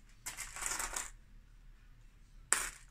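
Ten-ruble coins being bagged by the handful: a burst of jangling metallic clinks, then a pause and one more sharp chink of coins, fairly quiet and close.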